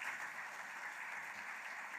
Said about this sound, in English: please join me to give a round of appreciation applause to our distinguished